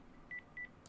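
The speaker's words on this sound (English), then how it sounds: "I better call them back." Phone number being dialed in the video game Brok the Investigator: two short keypad tones in quick succession, clean and faint over quiet background.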